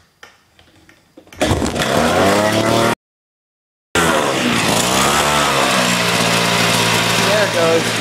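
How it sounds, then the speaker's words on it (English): A Honda Spree scooter is started without the choke: after a quiet stretch the small engine catches and revs loudly nearby, cuts out for about a second, then fires again and keeps running with shifting revs. "See, now I'll start it without the choke on."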